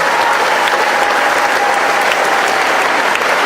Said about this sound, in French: par vos applaudissements, l'encourager à continuer encore